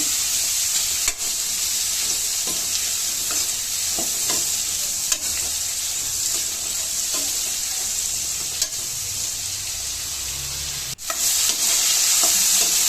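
Chopped capsicum sizzles steadily in hot oil for a Kannada-style capsicum and green peas gravy, a continuous close hiss with occasional stirring scrapes and no voices.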